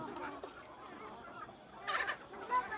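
Backyard chickens, red hens among them, clucking softly at feeding time, a few faint, scattered clucks over a low background hum.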